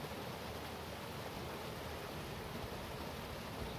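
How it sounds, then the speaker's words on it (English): A steady, dense roar of McCloud Falls near Mount Shasta pouring into a deep river pool, constant and unbroken, with no other sounds. "to the right is the waterfall, and deep down is the big pool of water"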